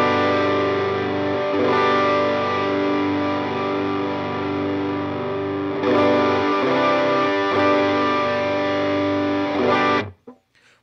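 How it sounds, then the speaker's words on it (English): Electric guitar through a Jet City Afterburner dual-stage overdrive pedal, a sustained distorted chord ringing loud and close while the gain is swept, with a brief change near the middle before the sound cuts off abruptly. "let's go through the sweep of the Overdrive"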